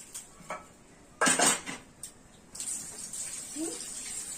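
Maggi noodles dropped into a metal cooking pot, a loud clattering rustle of dry noodles and metal contact, followed by a lighter clink and a steady background hiss.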